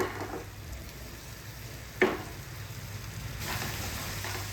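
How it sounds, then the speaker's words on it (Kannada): Turmeric and chili powder masala fries in hot oil with a steady, close sizzle, broken once by a sharp clink of a spoon against the pan. "ಅರಿಶಿನ ಪುಡಿ, ಖಾರದ ಪುಡಿ ಹಾಕಿ ಚೆನ್ನಾಗಿ ಫ್ರೈ ಮಾಡ್ಕೋತೀನಿ ಇದನ್ನು"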